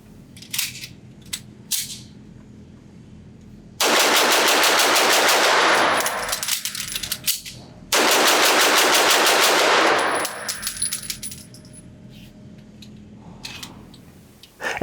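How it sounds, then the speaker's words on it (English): An Atlas Gunworks Artemis 2011-platform pistol fired rapidly at a range: a few separate shots, then two long, very fast, loud strings of gunfire, each lasting over two seconds, with a gap and a few more scattered shots between and after. "And man, can I shoot this gun fast."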